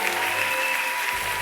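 Congregation at a charismatic church service applauding and cheering steadily, a dense continuous wash of clapping that fills the whole moment without pause.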